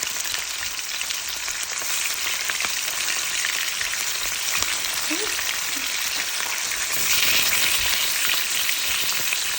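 Hilsa fish frying in oil in a pan, a dense continuous sizzle that stays loud and steady throughout, briefly swelling near the end.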